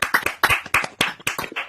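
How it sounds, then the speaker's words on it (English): Online meeting participants clap through their unmuted computer microphones: a handful of separate, sharp hand claps in an uneven rhythm, close and distinct with brief silences between them. "Everybody unmute your mics and give her a proper round of applause"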